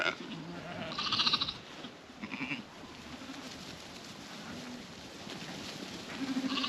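Scotch Black sheep and lambs on a farm bleat several times, some calls loud and near and others fainter, over a steady outdoor background.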